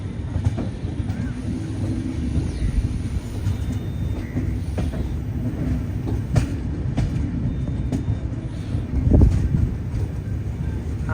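The Uday Double Decker train runs on its tracks between Bengaluru and Coimbatore, a steady close rumble of rolling wheels with faint rail clatter and a brief louder surge near the end, with no voices.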